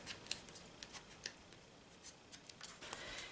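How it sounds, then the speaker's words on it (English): Small scissors snip off loose thread ends on a handmade card, a series of quiet, crisp clicks spaced irregularly close to the listener. "the little edge of the threads, I just cut them off"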